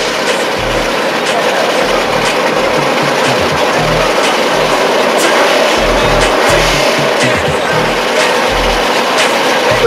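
A Nissan 280 and a black Camaro at a street drag race for cash, heard as a steady roar of crowd and engine noise with repeated low rumbling bursts of idling and revving engines.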